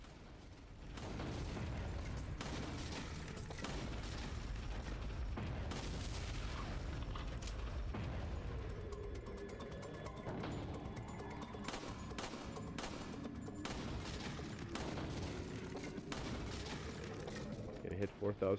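Gunfire at the practice range in Resident Evil 4 on the Wii, steady shots and booms layered over game sound throughout, with people talking over much of it.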